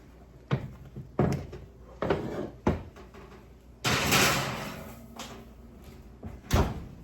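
An oven door thumps and clatters several times, a few knocks and bangs, then a longer rush of sound as it swings and shuts.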